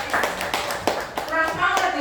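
Audience of teachers clapping in a quick burst of uneven hand claps, with voices talking over and through the applause.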